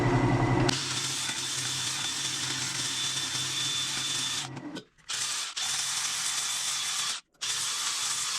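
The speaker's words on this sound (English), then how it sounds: "So let's sand this thing up, 80 to 400 grit" A turned wooden piece spins on a lathe while it is sanded through grits from 80 to 400, a steady loud hiss and whir that breaks off twice near the end in brief silent gaps.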